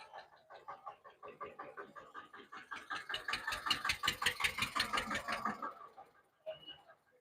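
A brand-new tractor's engine runs at a tractor market in Talwandi Sabo, giving a steady, rhythmic throbbing that swells louder midway and then drops off, with a voice talking over it.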